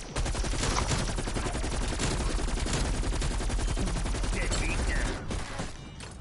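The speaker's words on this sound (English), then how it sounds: "Oh, I'm getting shot at." Dense, rapid gunfire from a Call of Duty Cold War Outbreak zombies match, loud, continuous bursts of automatic shots filling nearly the whole stretch before easing slightly at the end, with faint voices mixed underneath.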